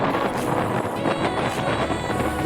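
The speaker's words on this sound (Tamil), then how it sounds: "இங்கே பயங்கர காற்று, அப்படியே காற்றுல சேர்ந்து இந்த மணலுமே அப்படியே ஃபேஸில் அடிச்சுட்டே இருக்குது" Strong wind on Thottapally Beach near a fishing harbor, blowing sand; a loud, steady roar of wind buffeting the microphone throughout, with no pauses.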